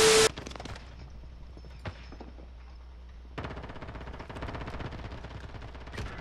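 Call of Duty Modern Warfare gameplay with rapid automatic gunfire, a steady rattling stream of shots that grows denser toward the end, plus a loud burst at the very start.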